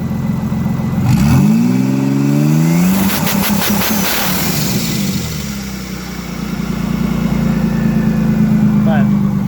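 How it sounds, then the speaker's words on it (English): Turbocharged, nitrous-fed E85 Pontiac Grand Prix GTP engine revs hard, rising in sweeping pitch climbs, then drops back to a loud, rumbling idle, close up with brief voice sounds over it. "I'll rev it up a little bit more here."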